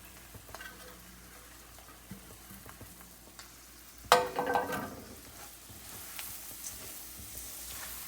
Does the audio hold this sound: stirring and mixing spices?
yes